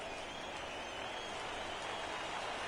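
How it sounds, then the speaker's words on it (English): Steady crowd roar at a minor-league baseball game between the San Antonio Missions and Frisco RoughRiders, fans on their feet cheering for the home team, a continuous wash of distant noise with no clear peaks. "Fans coming up on their feet now as they make some noise for the home crowd here tonight."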